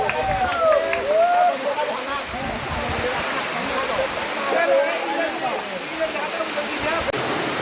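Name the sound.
waterfall in Rangamati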